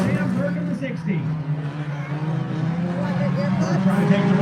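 Street stock cars race at Buds Speedway in Cape Breton, Nova Scotia, their engines droning and wavering in pitch as they pass and jostle for position, while an announcer calls the action over the continuous roar.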